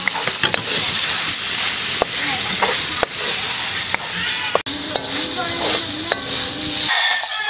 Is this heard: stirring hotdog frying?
yes